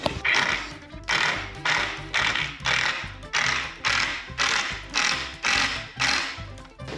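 A power driver runs screws into wood while a DIY surfboard rack is built. About ten loud, rhythmic ratcheting bursts repeat roughly every half second, close and steady, with no talk.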